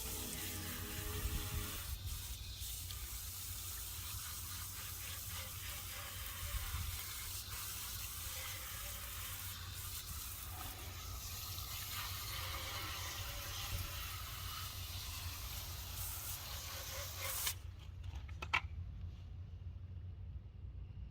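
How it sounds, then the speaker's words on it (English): Water streams steadily over an item just cleaned with Flitz pre-clean and a shop rag, a continuous broad rushing hiss that runs unbroken for about seventeen seconds before cutting off abruptly, leaving only quieter scattered sounds. "All right, now we're just gonna go ahead and rinse it off."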